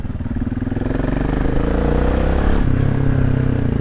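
A loud, rumbling exhaust runs steadily close by, with a throaty pulsing drone that swells slightly partway through.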